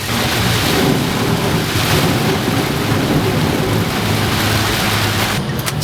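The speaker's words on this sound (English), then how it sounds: "it's raining so hard, the puddles are so deep" Heavy rain pours at a racetrack around a simple drift car, a dense, constant hissing roar with deep rumbling underneath, steady throughout and no talk.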